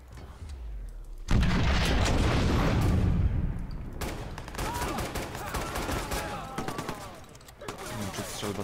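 Shotgun blasts and heavy gunfire erupt in the Watch Dogs video game, a loud burst of booming shots followed by scattered reports and rattling fire.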